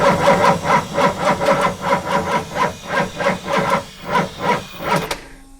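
An LS1 V8 cranking over on a weak battery, giving a slow, labored, rhythmic starter churn of about a dozen even pulses, close and fairly loud, fading out at the end without firing.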